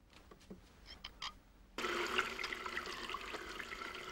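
A water tap is turned on after a few faint clicks and handling sounds, then runs in a strong, steady gush into a basin until the end.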